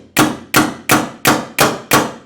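Six sharp, evenly spaced mechanical snaps from a Planet Eclipse EMF 200 paintball marker as the trigger is pulled and the bolt cycles, each crisp and close with a quick decay.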